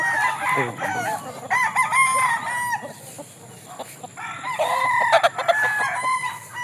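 Roosters crow and chickens cluck on a fighting-cock farm in Sibulan, Negros Oriental, the calls overlapping close by with several loud crows rising above steady clucking, and no talk in between.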